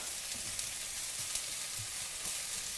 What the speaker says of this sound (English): So we've got the shallots cooking, and I just want to cook them until they're translucent and soft.